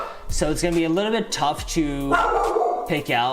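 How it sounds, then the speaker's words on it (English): Dogs bark in the background, several sharp barks and yips spread across the moment, while someone talks steadily over them in the foreground. "sorry for the barking in the background"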